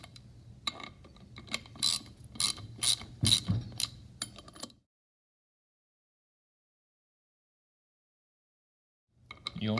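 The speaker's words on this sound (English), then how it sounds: "I grab my 13mm socket again. I'm going to snug these bolts up." Socket wrench ratcheting as 13mm bolts on a pump bearing cover are snugged up, rapid close clicking in bursts for about five seconds, then silence before a faint noise returns at the end.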